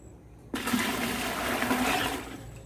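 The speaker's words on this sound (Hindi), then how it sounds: "हम ये पानी लेते हैं इस बाल्टी में" Water poured from a container into a bucket, with steady broadband splashing and gushing that starts abruptly and runs continuously at close range for about two seconds, alone without talk.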